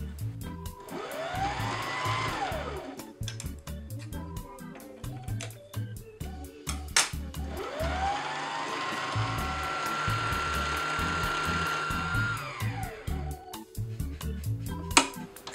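A sewing machine winds thread onto a bobbin, giving two sustained whirring runs whose pitch rises and then falls, over light rhythmic clicking.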